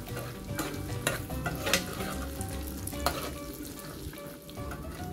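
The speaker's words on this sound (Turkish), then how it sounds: "cevizlerimizi birkaç dakika tereyağında bu şekilde" Chunky walnut pieces roasting in butter in a pan: a steady sizzle and frying crackle throughout, with repeated scraping stirs and light utensil taps close by.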